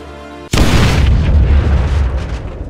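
A missile explosion hits with a sudden loud boom after a short quiet lead-in, then rolls on as a dense, sustained rumbling blast that fills the rest of the moment.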